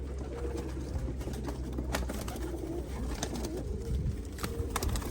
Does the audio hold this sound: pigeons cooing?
yes